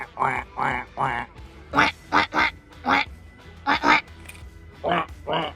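A man and a woman take turns imitating a duck, giving series of loud, nasal vocal quacks in short bursts of three or so, with brief pauses between them and faint room noise behind.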